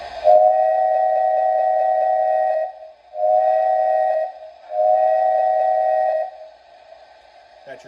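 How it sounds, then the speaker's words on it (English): Custom WDWRR-style standard train whistle, a loud steady steam-type tone sounding in three long blasts with short gaps, alone and close. "So here's the standard whistle."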